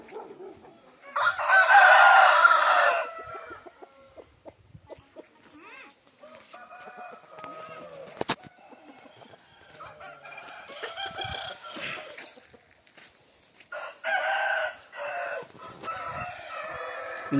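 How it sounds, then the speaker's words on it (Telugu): Fighting roosters on a farm crow loudly and close by, with a strong crow early on and more crowing and clucking later, mixed with scattered fowl noises and no talking. "ఇవన్నీ పందెం పుంజులు"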